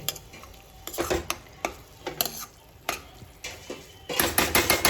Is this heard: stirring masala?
yes